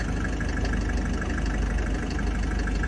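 A 1992 Mercedes W124 200D diesel engine idles with a steady, rough clatter, loud and close, running continuously without a break.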